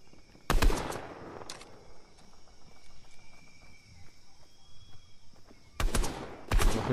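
Two loud bursts of rapid gunfire in the video game Fortnite, one early and one at the end, with a quieter stretch of faint ambient game noise between them.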